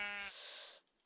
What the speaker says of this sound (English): Freaking sheep are keep eating the grass.